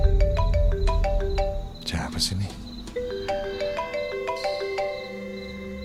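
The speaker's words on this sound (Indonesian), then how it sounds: "tiba-tiba telepon masuk." A phone rings for an incoming call, its ringtone a bright, repeating melodic pattern of short tonal notes that runs through the whole stretch, with a voice briefly speaking over it partway through.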